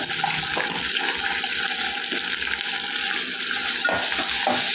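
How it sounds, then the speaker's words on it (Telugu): Spinach dal tempering with asafoetida is stirred in a pan, producing a constant close sizzle with occasional scraping strokes of a spoon against the metal. "ఒకసారి కలుపుకొని పప్పు వేసుకున్నామండి."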